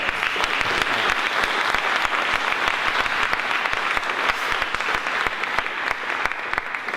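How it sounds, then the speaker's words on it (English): Sustained, dense applause from a conference audience at the opening plenary of No War 2017, many hands clapping steadily and loudly for several seconds with no talk over it. "We already have more applause than Trump's entire UN speech"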